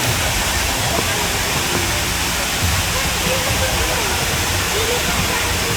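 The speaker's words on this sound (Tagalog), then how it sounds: "andito tayo ngayon sa Tamaraw Falls ng Puerto Galera" Tamaraw Falls in Puerto Galera, one of the tallest falls in the area with clear water, gives off a dense, steady roar of falling water, close and loud throughout.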